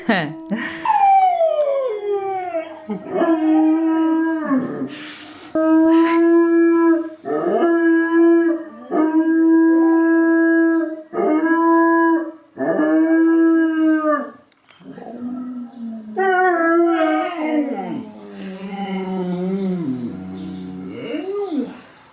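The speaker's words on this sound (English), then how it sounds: "as he would start howling, the rest of my dogs would pick up" Several dogs howl together in long, rising and falling wails that overlap in waves, with short pauses between phrases and a few yips and whimpers toward the end. The howling is loud and close and runs for the whole stretch.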